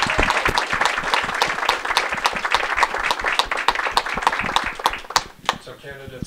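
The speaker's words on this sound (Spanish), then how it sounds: "Un aplauso para todos." Audience applause at a candidates' forum for California State Assembly District 37, dense steady clapping from a crowd filling the room, close and loud, tapering off near the end as a voice begins.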